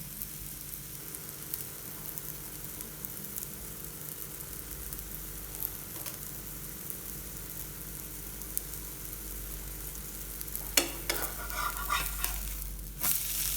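An egg omelette fries in a frying pan with a steady, close sizzle that runs the whole time, with a few utensil clinks and scrapes toward the end and no talking.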